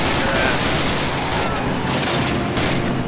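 Dense, continuous gunfire from Call of Duty 1 during a car ride through a village at dawn, a steady roar of overlapping shots and bursts with no break, loud throughout, with voices talking faintly underneath.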